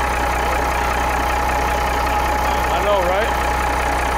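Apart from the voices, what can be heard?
1985 Freightliner FLC truck engine idling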